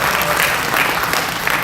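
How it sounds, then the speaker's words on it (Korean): An audience in a convention hall claps together at a book concert, a brief burst of thick, continuous applause with no pause. "이때 박수 나와야 됩니다."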